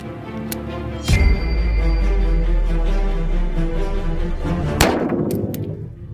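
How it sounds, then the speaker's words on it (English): A .357 revolver shot strikes a padlock with a sharp metallic clang, followed by ringing that lasts several seconds and then a second loud impact crack with lighter clicks. It is close and loud, with no talking. "So we have a .357 revolver."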